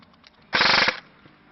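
A single short burst of rapid automatic fire from an AK replica gun, a tight buzzing rattle lasting under half a second, close and loud against a quiet background.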